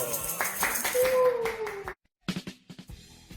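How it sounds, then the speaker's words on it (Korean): Schoolchildren in an elementary school classroom clap for the winner of a four-in-a-row game, with short bursts of clapping mixed with voices and a brief pause of near silence. "박수!"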